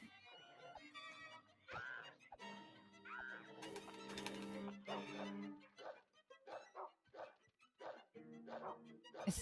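A dog in the survival horror game Rule of Rose barks and whimpers in repeated yips and cries amid other game sounds, with short pauses between calls.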